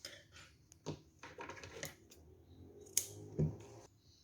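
Scissors snipping crochet yarn, a few quiet, sharp clicks and cuts close by, with small handling noises in between and no talking.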